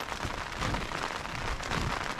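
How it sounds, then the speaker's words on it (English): Rain falls during a road trip to Nevada, a constant close patter with scattered heavier drops and crackling hits that stay steady throughout, with no talking. "It is raining now, but I think it's supposed to just be a little sprinkle."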